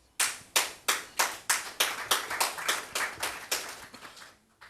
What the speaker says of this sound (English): That's the Minister of Local Government clapping.